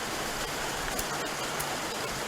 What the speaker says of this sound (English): The lovely rain is in the background.